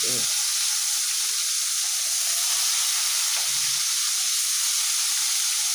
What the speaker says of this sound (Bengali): এখন মাছগুলোকে খুব সুন্দরভাবে আমি ভেজে নিচ্ছি একটু একটু।